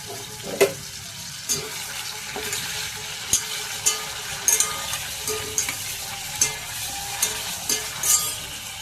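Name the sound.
paneer frying in a pan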